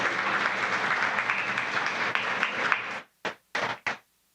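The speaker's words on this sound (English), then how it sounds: "Please give Oric a round of applause." Live audience at a community crowdfunding event claps for a sponsor, a dense applause lasting about three seconds before breaking off into a few last scattered claps.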